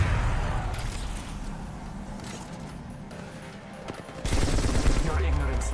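Gunfire from the L-Star plasma rifle in the video game Apex Legends, a steady stream of rapid energy-weapon shots that swells louder near the end, with in-game voices and effects mixed in.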